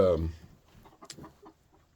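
Roosters clucking in a hen house kept over winter, one loud nearby call at the start, then fainter scattered clucks and rustling.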